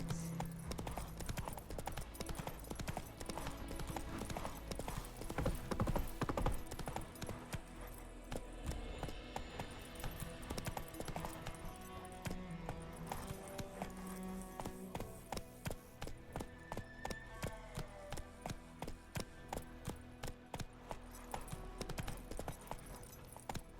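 Horse hooves clip-clop in The Witcher 3, a steady run of close hoof beats over game music and ambience, with brief voices heard now and then.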